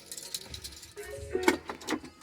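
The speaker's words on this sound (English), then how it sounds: "Now I switch the keys" Car keys for a 2025 Lincoln Nautilus jangle and clink briefly up close, a couple of quick metallic rattles within a quiet room.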